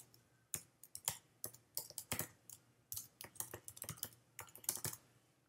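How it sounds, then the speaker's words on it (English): A name and email address are typed on a computer keyboard in quick, uneven bursts of crisp key clicks, close and clear, with short pauses between strokes. "In the from, simply type your name and your email address."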